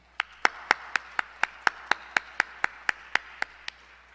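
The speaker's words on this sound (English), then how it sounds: "So let's give all of our sponsors a very big round of applause as a finale." At a school celebration of excellence in education, an audience claps in unison for the sponsors: about fifteen crisp, evenly spaced claps at a quick steady beat over a faint room murmur, tapering slightly at the end.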